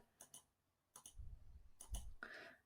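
Quiet mouse clicks on a folders tab in an Outlook email window, a few sharp, close taps separated by short pauses, with faint soft rustling between them.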